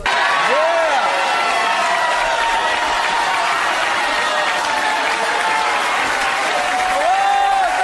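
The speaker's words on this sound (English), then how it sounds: "As the crowd yells Todd's name" A studio talk-show audience cheers, claps and yells a name in a loud, continuous roar that fills the whole stretch, with shouted voices rising above the applause.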